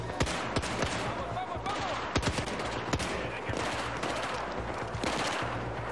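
Rapid gunfire bursts and scattered single shots from a Battlefield 4 firefight on Xbox 360, sharp cracks standing out over a constant din of battle, with a man exclaiming in Spanish in between.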